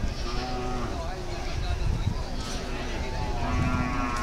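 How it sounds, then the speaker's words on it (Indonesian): Cattle, buffalo and goats crowd a busy livestock market, lowing and bleating amid a continuous murmur of people talking and general bustle. "puluhan truk coal diesel pickup mengangkut lembu, kerbau atau kambing dan lainnya ke pasar hewan untuk dijual"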